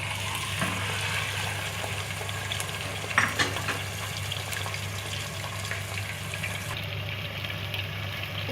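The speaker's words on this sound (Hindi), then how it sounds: "दो से 3 मिनट तक हम इसको मीडियम फ्लेम पर गोल्डन ब्राउन होने तक इसको फ्राई करेंगे।" Chicken pieces with cardamom and cinnamon frying over a medium flame in a pan for shahi korma, a steady soft sizzle with a faint clink of a utensil midway.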